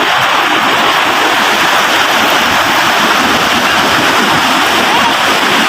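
Steady, loud roar of crashing surf and rushing water fills the whole stretch, broadband and continuous without pause.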